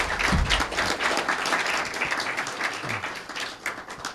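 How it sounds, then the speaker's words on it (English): Steady applause from the audience at a community access television annual meeting, a dense, continuous patter of many hands that holds evenly throughout without breaks. "So I think you should give yourself a round of applause."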